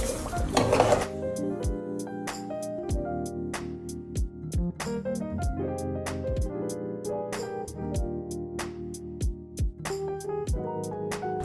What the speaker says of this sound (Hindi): अब हम 100 ग्राम्स ऑफ शुगर मिक्स कर रहे हैं।